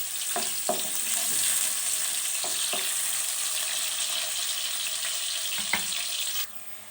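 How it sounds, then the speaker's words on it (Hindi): Sliced onions being sautéed in a pan, a steady close sizzle broken by a few sharp stirring clinks, ending abruptly near the finish with nobody speaking. "प्याज को हमने गोल्डन गोल्डन ब्राउन कर लिया है"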